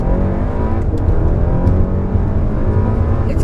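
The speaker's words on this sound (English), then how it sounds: "Until you hear the engine, until you hear those crackles and pops." A 2019 Audi S3 engine revs hard up close, loud and rising, with sharp crackles and pops bursting from the exhaust between pulls.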